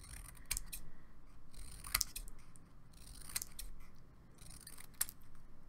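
Scissors cutting paper into little strips: four crisp, close snips spaced about a second or more apart, each with a short rustle between, over faint room noise.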